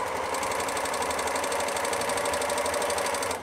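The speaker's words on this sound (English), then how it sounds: "grab your fabric from behind and then simply just keep stitching and chain off" An overlocker serger runs steadily at speed, chaining off thread past the end of the fabric, a close, loud, even mechanical whir that stops abruptly at the end.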